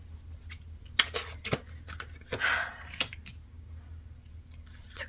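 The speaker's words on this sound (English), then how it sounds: "as I'm finishing up shuffling out your cards" Tarot cards being shuffled by hand, with sharp irregular riffles and snaps standing out over a quiet low room hum, close to the microphone and without speech.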